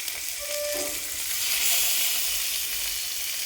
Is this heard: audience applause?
no